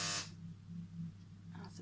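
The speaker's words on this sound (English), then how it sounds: "That's a buzzer." A short, harsh electronic buzz sounds sharply at the start, then gives way to a quiet hum with faint murmuring.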